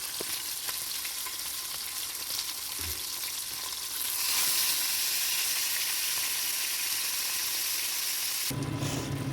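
Fish sizzles loudly in hot oil, a dense crackling hiss that swells partway through, with occasional clinks from the pan.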